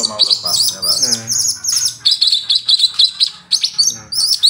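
A cungkok bird sings busily up close, loud bright chirps and rapid warbling trills in quick bursts, with a faint voice in the background.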